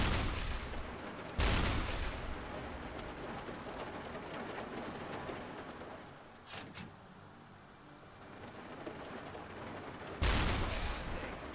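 A submarine deck gun fires at a tanker in the game UBOAT, with two heavy booms several seconds apart over constant sea and wind rumble, plus a fainter thud in between.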